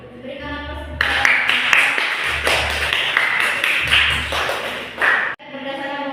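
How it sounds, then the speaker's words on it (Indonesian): Classroom applause for a group presentation: a burst of many hands clapping, loud and close, lasting several seconds before stopping abruptly, with faint voices at the edges. "Selanjutnya berikan aplaus"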